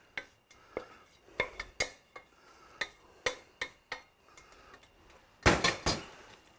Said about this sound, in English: Take my tomatoes and my peppers and my onions, drop those back in there